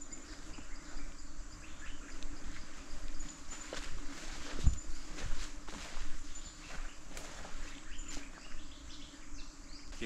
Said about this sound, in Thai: เสียงมันเหมือนรังผึ้งขนาดใหญ่นะฮะ